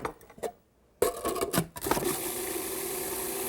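A kitchen blender whirs through sugar, lemon juice and melted butter, starting after a few clatters and then running as a steady, close, loud drone.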